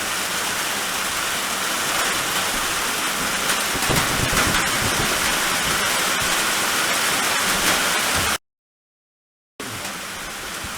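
Steady rain falls outside an off-grid cabin in late August, a dense, even hiss that holds without pause, with a brief dropout near the end.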